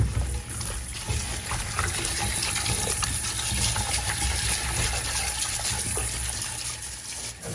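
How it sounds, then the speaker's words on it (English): Running tap water gushes steadily as food is rinsed in a home kitchen, a continuous splashing flow that stays loud and unbroken from start to finish. "I just rinse them, you know."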